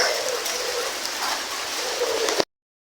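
Rain falls steadily outdoors near paddy fields, a dense close patter on surfaces lasting over two seconds before cutting off abruptly, with no speech.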